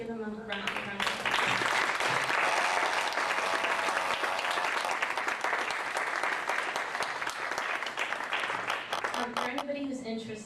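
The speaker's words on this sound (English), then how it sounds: "Let's give them a round of applause." An audience bursts into loud, sustained applause at the close of a panel discussion on transgender people in Greek life, the clapping swelling quickly, holding steady and then tapering as a voice begins speaking over it.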